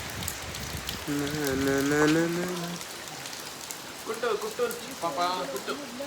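Rain falls in Kerala or the Madikeri hills as a steady broadband patter throughout, moderately loud, while people talk over it.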